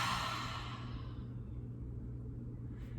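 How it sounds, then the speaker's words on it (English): A deep exhale through the open mouth during a morning wake-up yoga session, a breathy rush that starts strong and fades over a few seconds above a steady low hum. "Deep inhale. And open the mouth, exhale."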